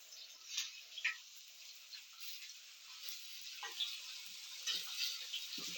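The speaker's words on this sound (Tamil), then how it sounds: "இங்கே பாருங்க, இங்கிட்டு மத்தி மீன் வெந்துட்டு இருக்குது, அந்த சைடு பாறை மீன் வெந்துட்டு இருக்குது." Sardines and rock fish fry in a pan with a steady, close sizzle, broken by faint ticks and light scrapes as the fish are turned.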